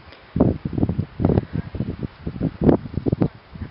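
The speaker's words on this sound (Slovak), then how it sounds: "No, takže dneska nám tu fúka." Outdoor wind gusting across a microphone near horses, a series of loud low rumbling buffets rising and falling in bursts throughout, close and blustery with no other clear sound.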